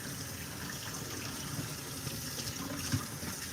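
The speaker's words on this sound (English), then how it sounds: "So we'll rinse that can opener off." A can opener rinsed under a running tap, a steady close gush of water hissing continuously with small splashy bumps as the tool moves in the stream.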